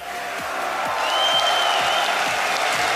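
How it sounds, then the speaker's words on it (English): A big arena crowd roars and applauds during the Counter-Strike grand final at Dreamhack Winter 2014, a dense, steady wall of cheering that builds slightly and holds loud throughout, with whistles and whoops on top. "Dreamhack, make some noise!"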